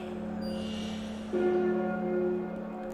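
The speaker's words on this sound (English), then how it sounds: "You can hear the bells." Church bells ring over 1794 Paris in a video game, a sustained resonant tolling heard at a distance beneath a steady ambient drone, with a fresh strike swelling partway through.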